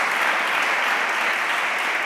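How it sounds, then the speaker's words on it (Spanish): Steady, dense audience applause filling a talk venue at the close of a smart-city lecture, continuous and even throughout with no voices breaking through. "pido un aplauso, por favor, para ellos"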